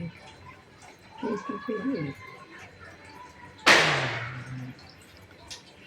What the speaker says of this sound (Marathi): बाहेर पोरं फटाके पडतात आता दिवाळी जवळ आले ना